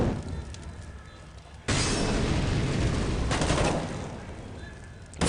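Gunfire in a CS:GO match at an esports finals, a sustained loud burst of shots and blasts starting partway in after a quieter stretch, continuing dense to the end.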